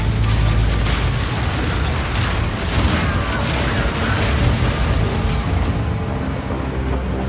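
Crossbow bolts firing in the video game Path of Exile 2, including permafrost, armor-piercing and incendiary bolts, in a loud, continuous barrage of booms, bursts and impacts with no break.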